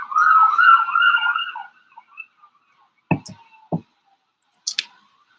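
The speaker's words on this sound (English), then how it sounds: "there's an ambulance passing by" An ambulance siren wails in a rising and falling pattern, moderately loud for about the first two seconds and then fading away, followed by a few sharp, brief knocks and clicks.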